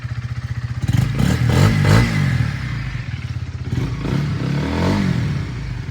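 A 2019 Honda CBR125R motorcycle engine starts and idles with a steady, rapid single-cylinder putter, close and fairly loud, with a few slight revs and mechanical clatter and no talk.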